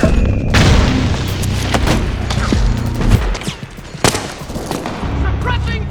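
Gunfire in the Metal Gear Solid 4 video game: loud booming shots and bursts of automatic fire in irregular clusters, with shouted voices over the battle.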